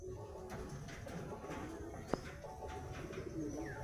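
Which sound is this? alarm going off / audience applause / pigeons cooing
pigeons cooing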